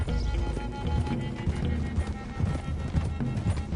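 Horses gallop in Red Dead Redemption 2 with rapid, continuous hoofbeats, along with a neigh and faint background voices under a dense outdoor game soundscape.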